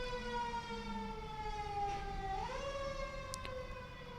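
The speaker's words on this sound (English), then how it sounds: "We've got visible ambulance." An ambulance siren wails in a long sustained tone that slides between pitches, heard faint and steady from a distance with no talking.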